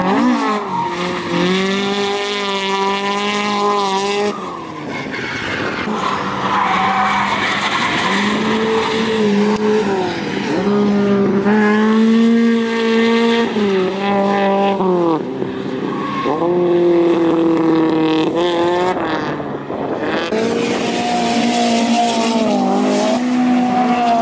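A Toyota AE86 on a drifting run without its front bumper, engine revving hard and rising in pitch through repeated gear changes while the tires squeal and skid loudly and continuously, close up and alone.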